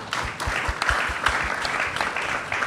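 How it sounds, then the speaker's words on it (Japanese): An audience claps steadily throughout at a panel talk on education and raising children to earn a living. The clapping is a thick, even wash with a few louder individual claps standing out near the front. "拍手ですか、これは"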